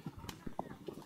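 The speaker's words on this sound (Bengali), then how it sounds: "ঘোড়ার গাড়ি" A few quick, irregular hoof clops from a horse-drawn cart, soft and close, with a brief ringing knock between them, on a windy, overcast day during Cyclone Remal.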